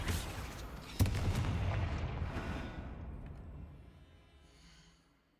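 A Confringo blasting spell from the Hogwarts Legacy video game goes off as one sharp, booming explosive hit, then a rumbling blast tail that slowly fades out into near silence.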